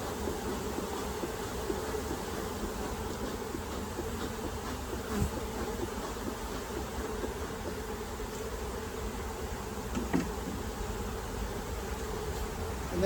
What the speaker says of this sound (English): I'm just going to smoke, try and calm these bees down a little bit.